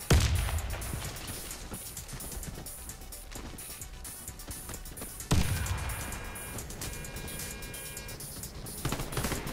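Grenade blasts in the shooter game Warface, two heavy booming explosions a few seconds apart, each with a sudden loud onset and a long rumbling decay, set among ongoing battle noise.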